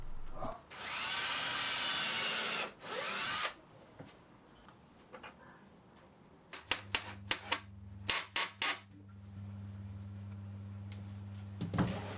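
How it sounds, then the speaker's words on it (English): A drill whirs loudly for about three seconds boring pilot holes in wooden uprights, then quiets. Sharp clicks and a low steady motor hum follow. "I drill pilot holes in each upright to make adding the screws a little easier."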